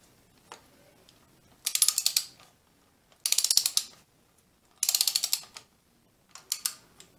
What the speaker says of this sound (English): we're gonna go ahead and torque that down to 15